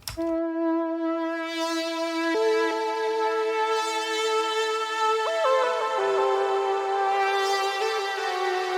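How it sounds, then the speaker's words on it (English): A saw wave synth lead in Serum for a 90s jungle-inspired track holds bright, buzzy sustained notes, gliding smoothly between pitches with portamento, loud and continuous, with no talking. "And so it's just a saw wave, but it sounds like this."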